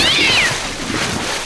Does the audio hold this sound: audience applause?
no